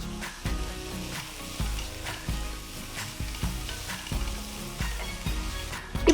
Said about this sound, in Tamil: 2 பச்சை மிளகாய் நீல வாக்குல நறுக்குனது, கொஞ்சம் கருவேப்பிலையை போட்டு வதக்குங்க.